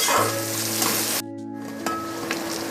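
Onions sizzle and fry in a pan for aloo matar pulao, a loud, steady crackle with a brief drop in the middle, then the frying continues close up, with no talking.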